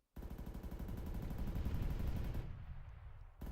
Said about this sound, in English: now it's also got a 30mm cannon with high explosive rounds